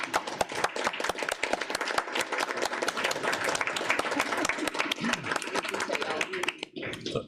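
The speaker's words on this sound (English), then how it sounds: "Please join me in standing and giving each of those who served a great big round of applause." A standing audience at a committee meeting gives a big, sustained round of applause for people who served. Many hands clap loudly with sharp individual claps, and the ovation tapers slightly at the very end.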